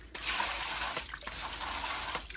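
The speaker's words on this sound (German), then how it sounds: "Die können wir auch im Wasser einfach ausschwenken." Running water pours over robot vacuum side brushes as they are rinsed, a close, steady hiss of flowing water with brief breaks as the brushes move in and out of the stream.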